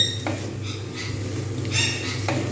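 A spoon scrapes and clinks against a pan while salted cabbage is stirred, in a few light metallic scrapes and taps over a low steady background hum, with no talking.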